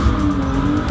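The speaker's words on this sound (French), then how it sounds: "Je suis en train de drifter sur circuit avec ma petite A46" A small A46 drift car sliding around a race circuit, giving a brief, loud, continuous engine roar with a steady squealing tone from the tyres, close by.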